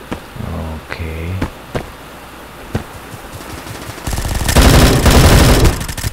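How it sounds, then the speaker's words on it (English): Machine gun fire in the video game Bullet Force: scattered single shots and short bursts at first, then a loud sustained burst of rapid fire for about two seconds near the end. "I'm shooting at this dude, but man, it's like the bullets pass through him"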